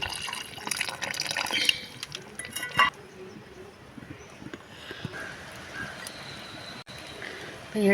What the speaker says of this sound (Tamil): எடுத்து வச்ச புளி தண்ணியை ஊற்றிடலாம்.